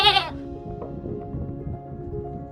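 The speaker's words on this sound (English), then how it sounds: "shepherds still walk through the village with flocks of sheep." A sheep bleats close by in a rural Iranian cave village, one short wavering cry followed by faint farmyard background noise.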